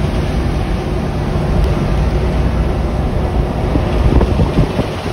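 Strong wind roars past a boat on a rough, wavy sea, a steady loud rumble with heavy buffeting on the microphone and no break throughout.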